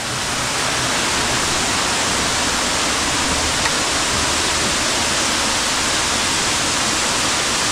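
A waterfall on a forest trail in Thanchi, Bandarban roars as a steady, dense, hissing rush of falling water, continuous and unbroken throughout, with no voices.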